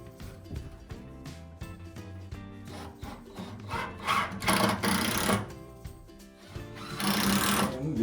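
Screws being driven into a sauna floorboard during assembly of a 2.4 m panoramic glass barrel sauna, a close, whirring, grinding drill with rhythmic pulses that swells louder in two bursts near the end.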